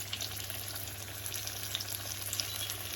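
Floured red mullet fries in hot oil, giving a continuous soft sizzle with fine crackles throughout, fairly quiet and close.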